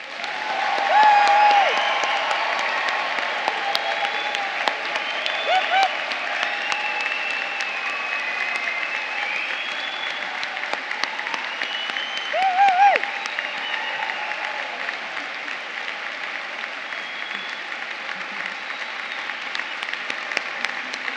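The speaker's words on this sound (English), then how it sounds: "And we should give you a first loud round of applause." Graduates at an Open University degree ceremony in the Barbican Centre, London, fill the hall with sustained loud applause and some cheering, the clapping crowd filling the hall for about twenty seconds.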